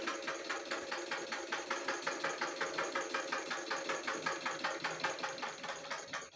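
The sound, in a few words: treadle sewing machine running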